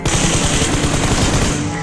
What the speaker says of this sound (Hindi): तो अभी मैं इसको मारने जाता हूँ, और इसे मार भी देता हूँ, मतलब नॉक तो कर ही देता हूँ